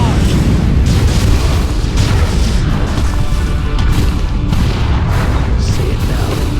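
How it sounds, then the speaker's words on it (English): Artillery barrage explosions from the strategy game Dawn of War II: Chaos Rising, a dense, continuous rumble of booming blasts that stays loud throughout with no quiet gaps. "Launch barrage!"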